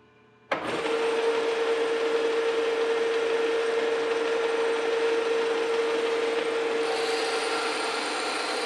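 A metal lathe takes a cut on a bronze bearing for a flat-belt loose pulley, starting abruptly and then running as a steady, close scraping hiss with a sustained tonal whine, with no voices.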